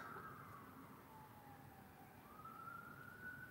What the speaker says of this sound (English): Oh, those are sirens.